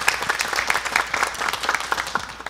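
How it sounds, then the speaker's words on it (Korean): Audience at a lecture event applauding to welcome a guest speaker, dense and steady clapping from many hands, close and fairly loud throughout. "여러분 박수로 맞아주시기 바랍니다."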